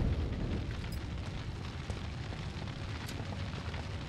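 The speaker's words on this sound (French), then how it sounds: "C'est des grenades." Grenades going off in the video game The Lamplighters League, a dense, continuous rumbling blast texture with deep low-end boom, steady and loud throughout with no talking.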